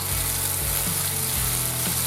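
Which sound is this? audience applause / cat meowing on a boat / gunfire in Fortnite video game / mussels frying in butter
mussels frying in butter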